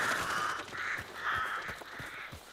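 Several crows caw in a video game, four harsh drawn-out calls in a loose rhythm, moderately loud over a busy background of game noise.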